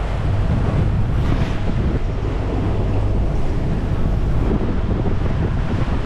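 Steady, heavy wind of about 20 knots roaring across an open microphone on a sailboat at sea near a coral reef, with low rumbling buffeting and the wash of waves underneath, continuous throughout.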